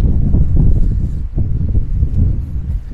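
A strong coastal wind in Turgutreis, Bodrum, during a November storm with rain, buffets the microphone in loud, low, gusting rumbles that rise and fall continuously.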